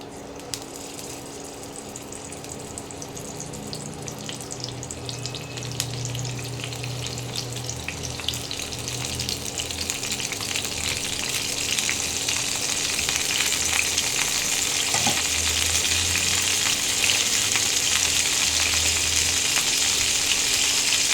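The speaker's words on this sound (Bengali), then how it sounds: "তেলটা গরম হচ্ছে, এবার আমি পটলগুলো ছেড়ে দিচ্ছি।" Pieces of pointed gourd fry in hot oil in a pan. A steady, close sizzle grows louder and fuller about halfway through, with faint scrapes and clinks underneath and no talking.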